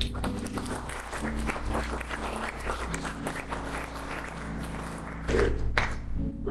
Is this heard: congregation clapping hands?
yes